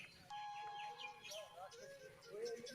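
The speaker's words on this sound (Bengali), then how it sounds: "কিচির মিচির পাখির" Birds chirp and twitter among the branches of a banyan tree at a roadside café spot, faint warbling calls mixed with quiet human voices and distant background noise.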